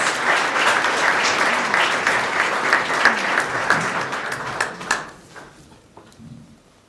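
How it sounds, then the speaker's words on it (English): Audience at a veterans heritage event in Sedona applauding, steady loud clapping for several seconds that thins into a few scattered claps and fades. "Please give her a big round of applause."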